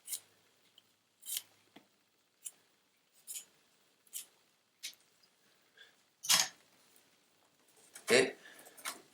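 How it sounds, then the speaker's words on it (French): Willow rods for a basket bottom being snipped with shears, a series of sharp separate cuts roughly every second, two louder crunching cuts near the end, in a quiet room. "je coupe les osiers comme ça pour enfoncer dans la croisée"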